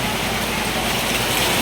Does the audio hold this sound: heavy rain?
yes